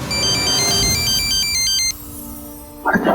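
A phone ringtone plays loudly as a repeating electronic melody for about two seconds and then stops, followed by a brief sound near the end.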